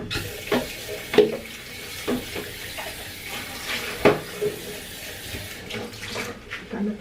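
Tap water runs into a basin being filled for a bath, a steady splashing stream with a few louder knocks and clatters of a scoop or container, close and fairly quiet.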